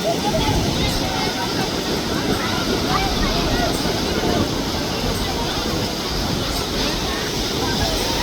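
Large sea waves break and surge along the Kanyakumari shore at India's southern tip, a steady broadband roar of surf filling the scene with a voice talking over it.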